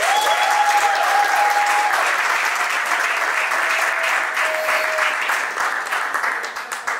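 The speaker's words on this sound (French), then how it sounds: "Est-ce qu'on peut l'applaudir, s'il vous plaît?" Loud, sustained applause from a large audience at a church youth gathering in Lille, steady dense clapping with a few faint tonal whistles over it, tapering slightly toward the end.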